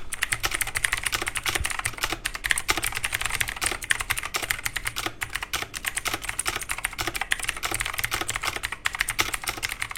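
Rapid, continuous clicking of a mechanical keyboard with clicky blue Jishan switches, a close and busy patter of crisp keystrokes heard alone throughout.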